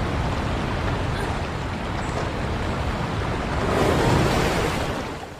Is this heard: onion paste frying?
no